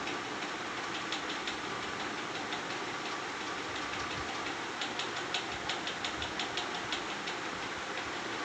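An airliner's engines rumble steadily in a continuous broadband roar as the plane taxis after landing at night, with faint rhythmic thumps running through it.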